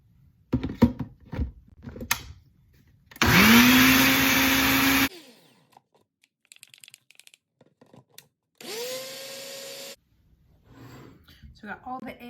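A blender-type machine grinding freeze-dried eggs into powder, running in two loud whirring bursts that spin up in pitch, with clattering handling noises and a person talking between them.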